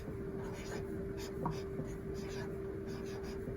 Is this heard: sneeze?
no